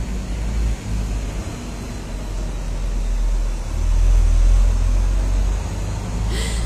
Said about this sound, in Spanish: Hay otro camión.